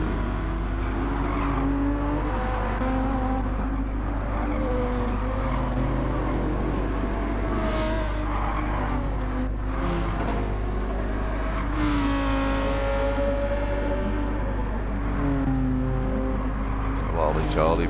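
Race car engines in Gran Turismo 7 roar steadily through a Manufacturers Cup race at Sardegna, with cars passing and revving, loud and continuous, while a commentator talks over the noise.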